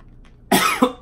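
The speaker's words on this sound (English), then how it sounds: "Excuse my cough." A single woman's cough, close and fairly loud, breaking out in two or three quick bursts with no talk around it during a seafood boil meal.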